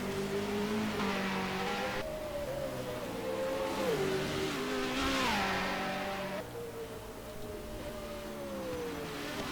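V8 Supercar engine accelerating through a lap at Hidden Valley, a steady near roar with rising and falling revs as it shifts gears, moderately loud and continuous with no talk.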